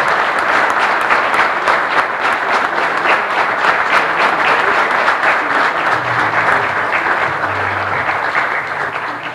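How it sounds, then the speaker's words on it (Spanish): Steady applause from an audience at a firefighter training certificate ceremony, honoring course graduates; dense, sustained clapping fills the whole stretch at an even level, with a faint low murmur near the end. "un aplauso para todos los cursantes"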